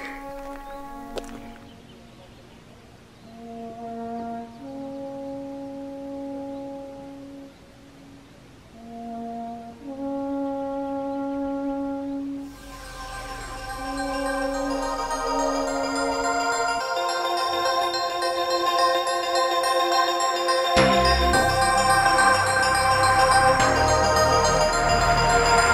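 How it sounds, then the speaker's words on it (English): Horn instrument playing a slow melody in a minor key from across a lake, sustained tones drifting at a distance before wind and louder outdoor noise swell up and cover it. "this guy over the other side of the lake with some sort of horn instrument, just playing a beautiful song over there in minor"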